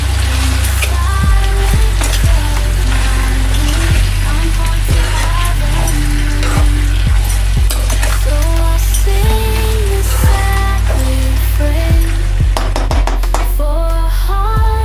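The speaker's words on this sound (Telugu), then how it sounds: "ఇప్పుడు కలుపుకుందాం." Chicken liver frying in oil gives a loud, constant crackling sizzle, with scraping stirring clicks scattered throughout and a light melodic tune running underneath.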